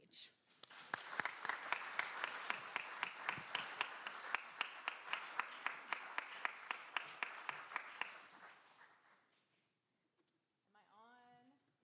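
A church synod audience applauds as a bishop is welcomed to the stage: dense, steady clapping for about eight seconds that fades out, followed by a brief spoken voice near the end.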